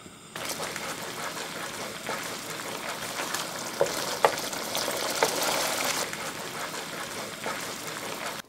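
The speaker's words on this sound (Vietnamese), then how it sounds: "Xào cho cà thơm lên" Tomatoes are stir-fried in a pan with salt, seasoning powder, sugar and MSG for a braised beef dish, giving a steady, close sizzle with a few faint pops and no voices.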